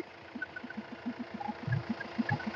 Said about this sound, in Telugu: బండి ఇప్పుడు స్టార్టింగ్ లో ఉందండి.